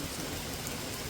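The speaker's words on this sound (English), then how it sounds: "We do have rain that's come in again." Steady rain falls outdoors during maple syrup boiling on a Vogelzang cast iron boxwood stove, a dense, even hiss of drops with no voices.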